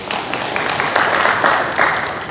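An audience at a conference day on dental implantology applauds, producing a dense, steady patter of many hands clapping at moderate volume.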